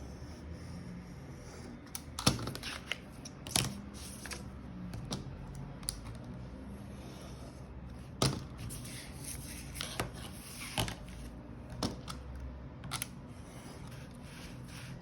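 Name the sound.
utility knife trimming excess paper for a photo album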